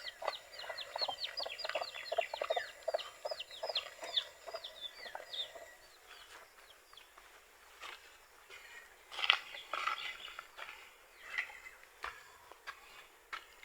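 Native chickens and small chicks in a pen give soft, scattered clucks and high peeping calls, faint and a little distant, with occasional light ticking noises between them.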